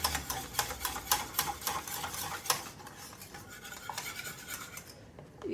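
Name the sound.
whisking flour into gravy in a pan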